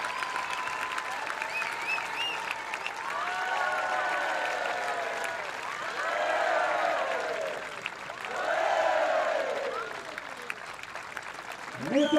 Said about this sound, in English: Applaudissements pour notre capitaine.